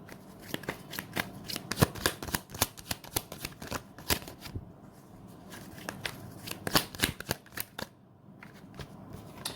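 A deck of tarot cards is shuffled by hand, giving rapid papery riffles and slaps in irregular bursts with short pauses, close and fairly quiet with no talking.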